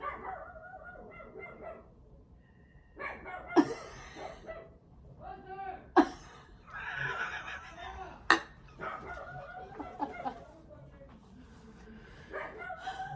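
A dog barks in sharp, repeated bursts, loud and close, with a person talking in between the barks.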